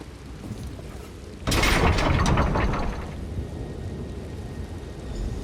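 Sudden burst of a thunderclap with rolling rain noise in a video game storm during a siege of castle walls, a loud crack that swells and fades back into a steady hiss of rainfall.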